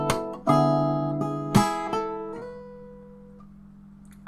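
Acoustic guitar plays bar 23 of a fingerstyle arrangement of a song from Naruto Shippuden, using a slap chord technique: a few struck chords and bass notes, then a long ringing decay, close and alone.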